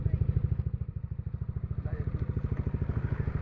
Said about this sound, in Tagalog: testing mo nga ito motor ko, may lumalagitik eh.